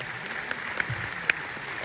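Scattered, fairly light audience clapping at a film premiere, a soft steady patter with a few sharper claps standing out, heard from a distance in a reverberant hall.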